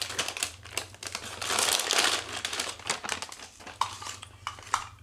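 Crinkly plastic packaging around LED strips being handled and opened, with close, dense crackling in bursts, one longer rustling stretch and a few sharper snaps, without any speech.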